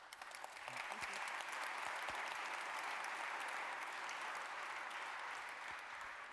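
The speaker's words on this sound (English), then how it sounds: "Big applause for them." An audience applauds a panel discussion on competing on culture: dense, even clapping from a crowd that swells in quickly and holds steady at a fairly faint, distant level, with no voices.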